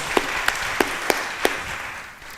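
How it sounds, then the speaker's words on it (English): Scattered clapping from an audience at a poetry and literary exchange event, a few distinct sharp claps over a soft wash that fades toward the end. "Give her a round of applause"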